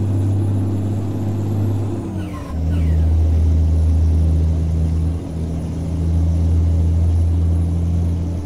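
A heavy truck engine drones loud and low in Euro Truck Simulator 2 as the truck ahead accelerates. A brief dip and shift of pitch midway is followed by a sustained rising rumble.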